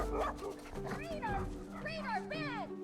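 Dogs bark and yip during play, several short bright barks and whines sounding close and moderately loud, with a voice talking over them throughout.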